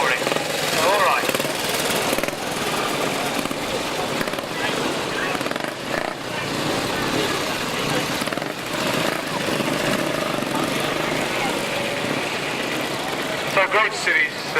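A classic motorcycle engine runs at a steam fair with a steady, gritty mechanical roar, close and continuous throughout, rising slightly near the end, with crowd noise mixed in.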